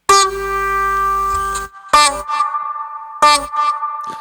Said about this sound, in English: Okay, it's just reverb.